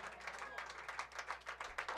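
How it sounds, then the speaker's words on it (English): Scattered applause and clapping from a concert audience at a Joni Mitchell tribute show, rhythmic hand claps fairly faint and close, with murmuring voices underneath. "you don't have to keep clapping"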